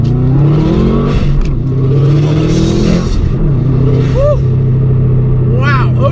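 A modified 2007 Subaru WRX pulls hard on a straight, its engine note loud and close throughout, and a person speaks over it.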